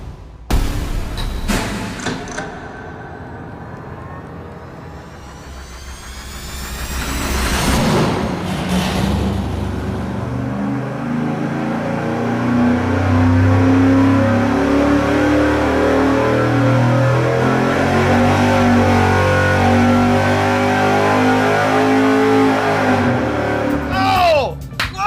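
A 305 Chevy V8 on an engine dyno with nitrous, loud and close: a few thumps at first, then a rising rev and a sustained, heavy engine roar held at high load until it cuts off near the end.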